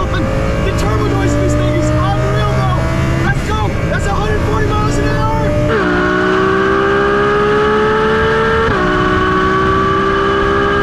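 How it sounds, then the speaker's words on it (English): A twin-turbo Lamborghini Gallardo accelerates hard, its engine climbing through gears with sharp shift breaks and a loud, continuous roar and turbo whine, heard close from inside the car, with people talking over it. "the car's gone. The turbo noise."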